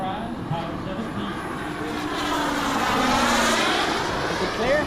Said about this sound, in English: Landing! Landing!